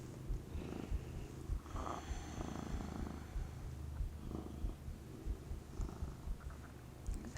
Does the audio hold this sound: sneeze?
no